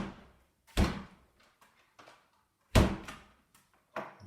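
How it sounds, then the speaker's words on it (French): A home door, with two knotted straps of a DIY suspension trainer set behind it, swings shut twice with solid thuds about two seconds apart, plus softer knocks and rustles between them. No one speaks. "fermez la porte."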